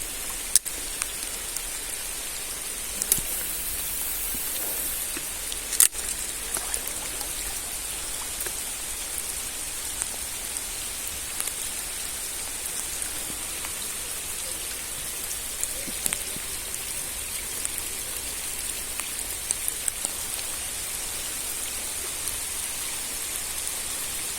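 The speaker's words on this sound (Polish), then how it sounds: "Jak widzicie pada bardzo mocno." Heavy rain pours steadily at night beside a lake during feeder fishing, a dense continuous hiss of drops on water and surfaces with a few sharper taps, no voices.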